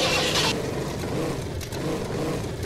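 In the Spintires video game, a Chevy Silverado with a big block engine rumbles and revs steadily at moderate loudness, a continuous low engine drone with a brief scraping burst at the start.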